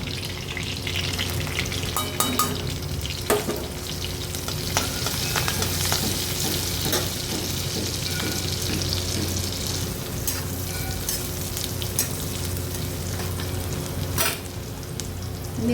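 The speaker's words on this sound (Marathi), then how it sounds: "बटाटा थोडा साईडला करून यामध्ये बारीक चिरलेली हिरवी मिरची घालूया." Chopped green chillies frying with potato in a pan for sabudana khichdi, a steady close sizzle and crackle that runs the whole time with a few stirring scrapes and no talking.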